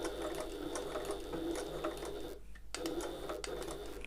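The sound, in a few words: sewing machine stitching across a line on a tote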